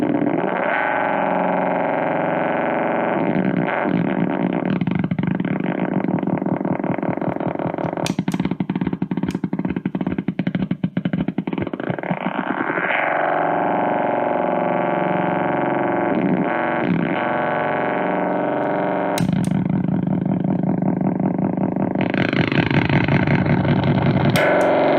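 Delay pedal pushed into self-oscillation on a Toronto City Transit Delay Deluxe, producing loud, continuous sci-fi spaceship warbles with swooping pitch sweeps and distorted, swelling textures that never let up.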